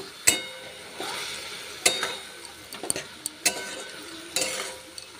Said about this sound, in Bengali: এবার এই দিয়ে ভালো করে আমি কষিয়ে নেবো জিনিসটা।